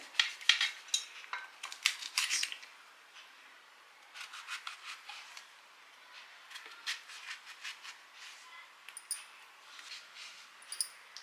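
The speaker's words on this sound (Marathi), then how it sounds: "अशा पद्धतीने आपण सगळे वांगे आता चिरून घेऊयात।" A knife chops brinjals, giving a loose run of crisp, light cuts and scrapes close up that come in bursts with short pauses, with no one talking.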